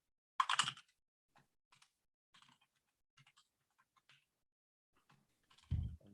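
Someone typing an email on a computer keyboard, with sparse, quiet key clicks in short bursts separated by pauses and a louder knock at the end.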